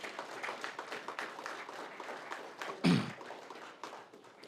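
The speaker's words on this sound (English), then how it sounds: "Give yourselves a round of applause for getting here." A room of attendees at a youth achievement keynote at Grand Rapids Community College claps in a broad, steady patter of many hands, with a heavier thump partway through before the sound thins out.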